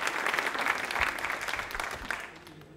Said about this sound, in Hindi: जोरदार तालियां बजाइए एक बार उनके सम्मान में।